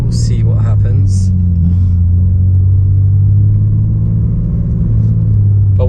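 A BMW G80 M3 Competition engine at a drag strip, a loud steady low rumble that holds constant throughout with faint mechanical ticks on top and no clear revving.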